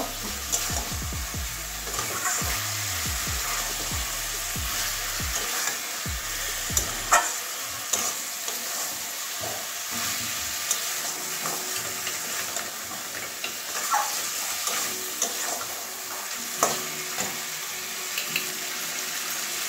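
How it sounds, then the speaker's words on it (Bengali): Chicken sautés with poppy seed paste in a pan for a Bengali-style curry, a soft continuous sizzle punctuated by scraping stirs and occasional clinks, with a low rumbling thump early on. "পোস্ত দিয়ে ভালো করে কষিয়ে নেব।"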